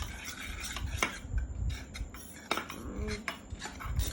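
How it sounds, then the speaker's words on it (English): A slime mixture tinted with blue food color is stirred in a bowl, giving close, busy scraping and clinking of a utensil against the container with a few sharper knocks. No one talks. "now we're gonna stir it"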